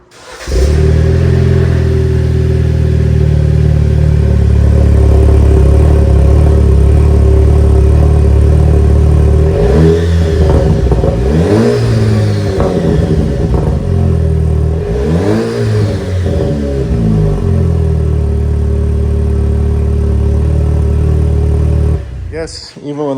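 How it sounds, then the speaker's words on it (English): A Jeep Wrangler JL with the 2.0 engine running with no muffler fitted, a loud raw idle rising into two sharp revs and falling back before cutting off. "you almost have to start it up with no muffler"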